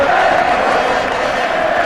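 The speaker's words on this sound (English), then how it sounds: "Tremendous scenes, tremendous appreciation from the crowd." A large stadium crowd at the 1985 Rugby League Challenge Cup final cheers and roars in a loud, sustained wash of noise.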